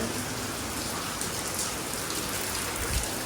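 Heavy torrential rain pours in a dense, unbroken hiss with fine drop patter throughout, steady and fairly close, no voices.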